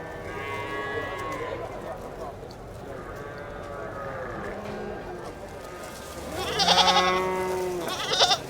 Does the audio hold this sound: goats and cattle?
yes